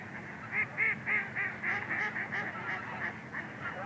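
Migratory geese at DeSoto National Wildlife Refuge honk in a steady, overlapping chorus, with repeated nasal calls from a sizable flock at moderate distance and no voices.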